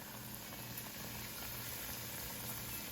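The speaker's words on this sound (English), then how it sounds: "Just those nice little fluffy bubbles popping up all around." Vegan chicken frying in rosemary oil, a faint steady bubbling sizzle that holds evenly throughout with no pauses or talking.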